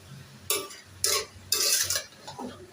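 A utensil scrapes and stirs inside a metal kadai wok in several quick, separate strokes, close by, with quiet gaps between them.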